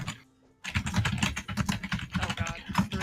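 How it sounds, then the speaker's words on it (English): Rapid computer keyboard typing, close and busy, a dense clatter of keystrokes starting after a short pause and running steadily to the end, with faint voices in the background. "the return of the keyboard"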